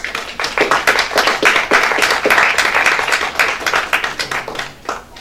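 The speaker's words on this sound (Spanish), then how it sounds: "Un aplauso." An audience at a cultural festival lecture breaks into applause, a moderate crowd of distinct hand claps with audible individual strikes, sustained for several seconds and gradually thinning out toward the end.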